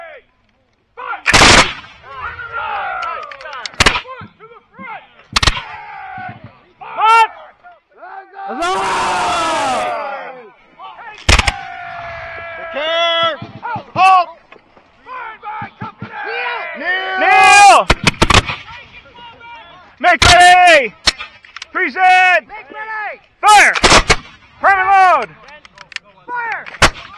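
At a Hubbardton Revolutionary War battle reenactment, musket volleys and cannon fire boom out loudly outdoors, sharp blasts spaced irregularly between shouted commands and calls from the reenactors.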